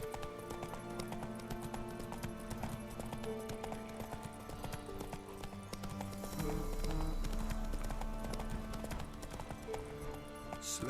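Horse hooves clip-clop in a steady walking rhythm as Roach moves in The Witcher 3, under a bed of game music, with a short whinny toward the end and no speech.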